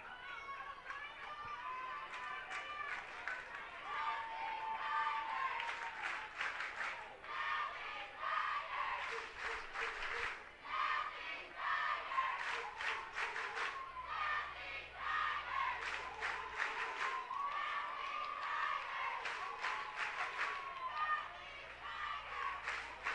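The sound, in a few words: baseball crowd ovation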